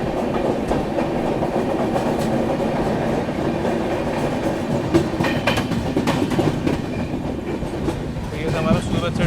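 Rumbling carriage noise and rhythmic wheel clatter from the Rajdhani Express as it picks up speed departing Surat, heard steadily from inside the moving train with faint background voices.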